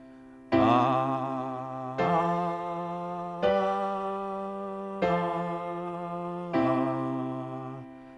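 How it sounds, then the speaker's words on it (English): A single voice hums the bass notes of a piano chord progression, five sustained tones each entering cleanly and holding for about a second and a half, steady and fairly loud with a slight fade on each. "So now I'll hum the bass notes."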